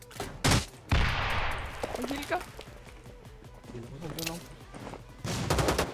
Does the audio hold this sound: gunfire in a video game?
yes